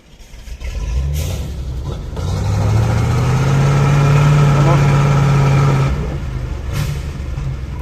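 Truck engine idling steadily at a fish-farm pond while fish are unloaded, a low droning hum that rises in pitch and swells in the middle before settling back, with brief voices nearby.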